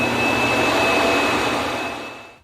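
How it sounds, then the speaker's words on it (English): A Roborock robot vacuum's self-emptying dock roars with a loud, steady suction whoosh close by, holding constant before winding down and cutting off at the end. "once your vacuum is done cleaning, it heads back to the dock and it automatically empties itself"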